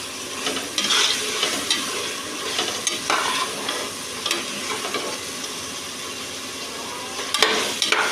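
Onion and tomato sauté in a pan with a dense, continuous hissing sizzle and intermittent scraping strokes of a ladle, close and fairly loud, no speech.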